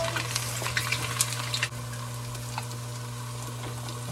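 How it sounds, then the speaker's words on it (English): Onions for jollof rice fry in hot oil with a steady, bright sizzle, close up, while a utensil stirs and clatters briefly at first, over a low constant hum. "Alright guys, I'm gonna fry my onions."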